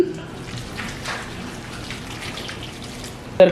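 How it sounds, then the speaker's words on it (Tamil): Boiling water pours and trickles steadily into a bowl, a soft splashing stream lasting a few seconds, ending with a brief clink. "நல்ல கொதிக்கிற சுடுதண்ணி இருக்கு. இப்போ இதுக்குள்ள நான் விட போறேன்."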